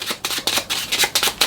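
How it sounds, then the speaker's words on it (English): Playing cards riffled through a quick overhand shuffle for a close-up card magic trick: a run of five or six soft, papery rustling bursts in a steady rhythm, close and fairly loud, with no talking. "I should give the cards a quick shuffle. Just a little overhand shuffle."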